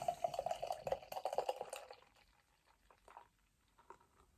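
Imperial stout beer pours into a glass with a quick run of gurgling, splashing glugs that settle into faint fizzing and scattered drips, quiet and close.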